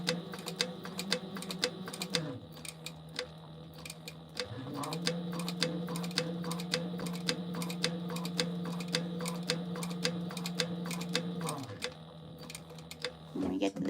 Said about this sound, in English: we're just gonna do 1/8 of an inch top stitch along both edges